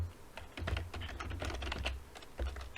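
Rapid keystrokes on a computer keyboard as a search term is entered, clustered taps in quick irregular bursts, close and fairly quiet with no talking.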